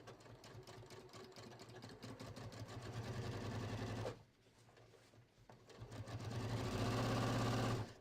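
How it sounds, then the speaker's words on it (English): Sewing machine stitching a straight 3/8-inch seam on a pants slash pocket, a steady close mechanical whir that pauses briefly midway, then resumes at full speed. "we're just going to stitch this using 3/8 of an inch"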